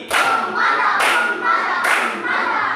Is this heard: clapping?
yes